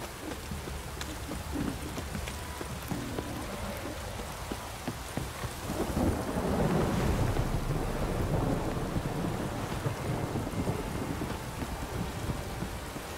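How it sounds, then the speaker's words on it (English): Heavy rain pours down in a video game, a constant hiss with a low thunder rumble swelling midway and rolling on to the end, no voices. "This downpour's a bastard"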